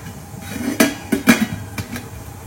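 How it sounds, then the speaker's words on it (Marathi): A metal lid is set onto a steamer pot while making Goan turmeric leaf cakes, giving several close clinks and clanks of metal against metal in a short uneven sequence over a faint background hum. "आता आम्ही हे स्टीमराक लीड लावून दवरूया."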